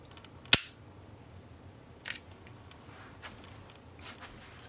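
A Springfield XD-M compact pistol fitted with a trigger spring kit gives one sharp, crisp click from its trigger pull, followed by a couple of fainter handling taps in a quiet room.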